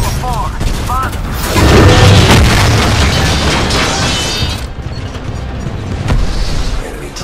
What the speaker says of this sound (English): These guys launch rockets from afar.